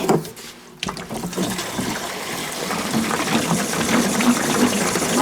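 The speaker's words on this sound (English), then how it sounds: "We're going to go ahead and fill this tank with some water" Water pours steadily into the tank of a Thetford Porta Potti 155 camping toilet with a gushing, filling sound, starting after a short thump and growing slightly fuller as it goes.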